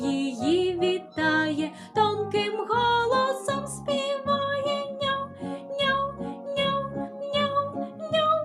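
A sung Ukrainian children's game song with musical accompaniment, the voice imitating a kitten's meows in a repeated, rhythmic pattern.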